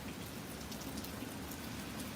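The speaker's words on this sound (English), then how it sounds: "I'm getting this little rain coming from Tropical Storm Francis now." Light rain from Tropical Storm Francis falls outdoors in a city, a soft, steady patter of drops that stays faint and even throughout, with no voices.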